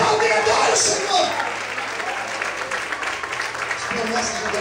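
Sustained applause from a large church congregation, steady and dense clapping filling the room for several seconds.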